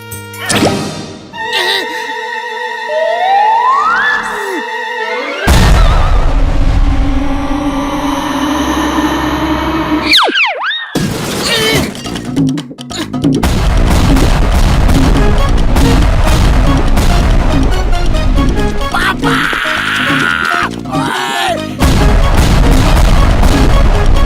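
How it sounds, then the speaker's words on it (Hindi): Cartoon bomb blast in a Motu Patlu animated episode: after whistling, descending synth tones, a sudden loud booming explosion erupts and rumbles on, followed by further crashing, rattling debris noise and another burst later. "अब बम ब्लास्ट कर दो।"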